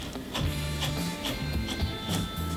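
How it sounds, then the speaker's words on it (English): A gravel vacuum is pushed into the gravel of a fish tank, siphoning aquarium water with a steady rattling, gurgling churn close by that varies slightly as it works. "with the gravel vacuum here, we just simply kind of punch it into the gravel like this"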